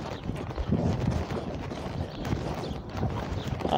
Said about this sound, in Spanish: el caballo está en su ritmo.